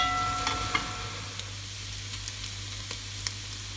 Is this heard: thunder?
no